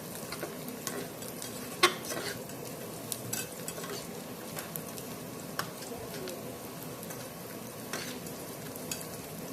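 Onions frying in a pan for a chicken curry, a steady broadband sizzle with occasional utensil clinks and stirring scrapes, close and moderately loud, no talk.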